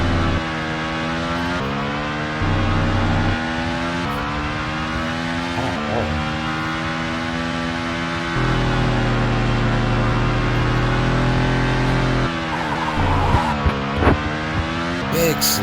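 An F1 racing car in a video game drones loudly and steadily as its engine pitch shifts up and down through gear changes, with a brief tire slide mid-corner and a voice talking over it.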